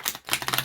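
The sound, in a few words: tarot cards being riffle shuffled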